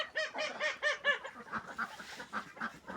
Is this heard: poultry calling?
yes